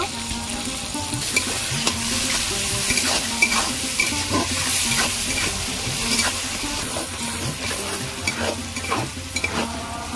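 Chopped tomatoes with salt sizzle steadily in a hot pan while a spoon stirs and scrapes through them, a continuous close frying hiss with no talking.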